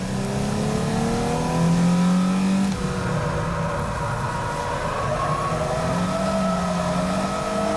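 A Nissan 350Z, a front-engine rear-drive coupe, is driven hard and drifted around the Tsukuba circuit. Its engine drones loudly and steadily and the pitch rises and falls with the revs, with no voices over it.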